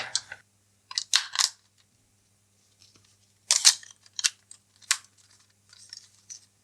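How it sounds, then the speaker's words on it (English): Three AAA batteries clicked into a handheld game console, a few short sharp plastic clicks and snaps in scattered bursts against silence. "So let's get some batteries in and check that out. 3 AAAs."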